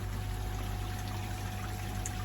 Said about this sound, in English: Nice flow coming out of the bakki shower.